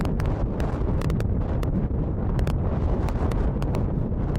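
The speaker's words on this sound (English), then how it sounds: "I had to take my dead cat off just to let you experience this wind." Strong wind buffets an uncovered microphone in a constant loud rumble during a gravel bike race, with sand blowing and sharp gusty pops breaking through now and then.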